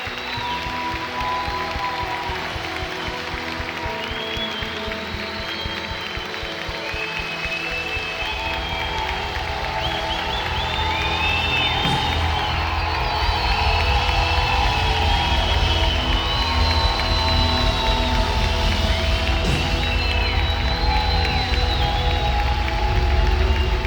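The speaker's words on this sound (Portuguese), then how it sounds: "nós queremos Te render, Espírito Santo, uma salva de palmas" A church congregation applauds the Holy Spirit during worship, clapping and cheering swelling over sustained music, the crowd noise growing louder and fuller as it goes on.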